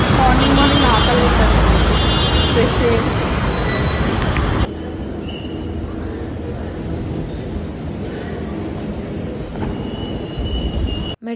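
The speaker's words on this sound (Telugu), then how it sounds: "మెట్రో స్టేషన్కి వెళ్ళగానే ట్రైన్ వచ్చేసింది అనమాట." Metro train pulling into a station early in the morning, a loud rushing roar that drops to a quieter hum as it slows and settles, with faint station noise around it.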